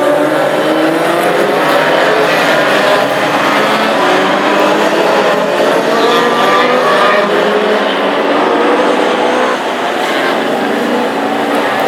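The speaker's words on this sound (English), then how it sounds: "You can see Lee Wood light up the wheels of his HB Viva as we get ready to go racing" A Vauxhall HB Viva hot rod spins its wheels at an oval race meeting on a chilly evening, a loud, sustained engine roar with tyre squeal holding steady for about twelve seconds, close and continuous.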